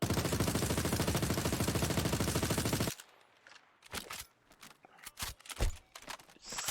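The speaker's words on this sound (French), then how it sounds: "déjà on va balancer une grosse rafale" An FS9 light machine gun in Star Citizen lets off one long rapid burst of evenly spaced loud shots lasting about three seconds, followed by scattered clanks and thumps.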